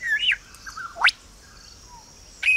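Lyrebird in a forest mimicking surrounding sounds: loud, close whistled phrases and sharp rising sweeps separated by a quieter pause, then another burst at the end.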